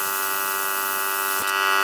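A JEGS Cut 60 plasma cutter slices through 1/8 inch steel flat bar, giving a steady, close electric hiss and buzz with a constant tonal whine and a brief crackle near the end.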